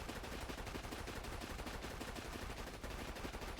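A video game gun emptying a full magazine in one continuous rapid burst of dense, evenly spaced shots, quiet and alone with no talk.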